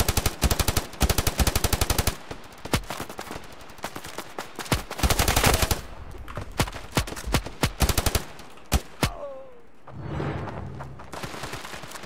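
Rapid bursts of automatic gunfire from the mobile shooter game Standoff 2, loud sharp repeated shots in clustered volleys with brief pauses, and a dull booming rumble near the end.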